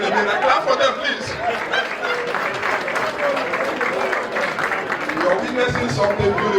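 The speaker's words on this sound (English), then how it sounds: "Clap for them, please." A crowd at an Igbo Union Iri Ji new yam festival claps for a group of women, with steady, dense applause mixed with chatter and light laughter throughout.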